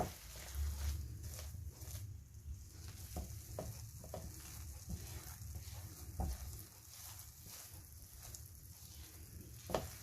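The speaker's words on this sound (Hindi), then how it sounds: "इसको हल्की आंच पे मिक्स करते जाएं।" Coconut truffle mixture stirred in a pan over low heat, giving a soft continuous scraping and faint sizzle that stays steady and close throughout, with no voices.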